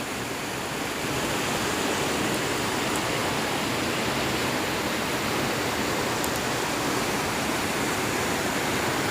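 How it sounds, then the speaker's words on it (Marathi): River water rushes continuously, a dense, steady hiss of flowing current heard up close, with no voices. "हे बघा नालं पाणी सुंदर अशी नदी आहे"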